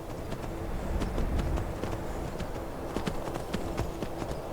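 Horse galloping in the video game Skyrim Special Edition (modded), a steady rapid run of hoof clatter over a continuous rumbling background, fairly close and loud, with no talking.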